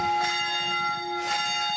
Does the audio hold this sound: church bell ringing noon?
yes